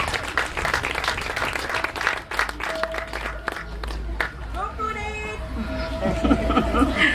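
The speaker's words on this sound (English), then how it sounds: "I see Prudence has her own little cheering section here." An audience claps and cheers for peer counselor Prudence McCoy at a ceremony unveiling a bust of G.C. Foster; brisk dense clapping for about four seconds, then a voice speaks as the applause thins out.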